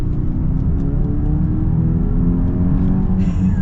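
A 2024 Genesis GV80 with the 2.5T four-cylinder engine accelerates, giving a loud, steady engine drone with rising tonal harmonics heard from inside the cabin, with no talking.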